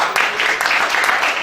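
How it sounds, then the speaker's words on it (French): Church congregation applauding a prophet during a service, a loud dense burst of clapping from a crowd, with voices mixed into the noise. "Acclame-le."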